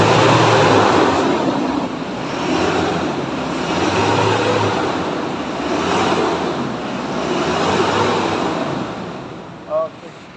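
A car engine being revved, with broad, surging engine and exhaust noise that rises and falls in several swells over a steady rumble. Part of a smoke test before an additive is poured in, close and loud throughout.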